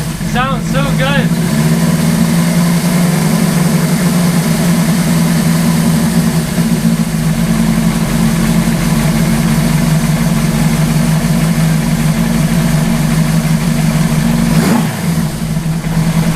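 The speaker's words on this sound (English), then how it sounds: "The bike has been idling for quite a while now" A Suzuki GS850 scrambler motorcycle idles steadily and loudly up close for the whole stretch, a low even engine drone with a brief dip near the end and a few voice-like sounds at the start.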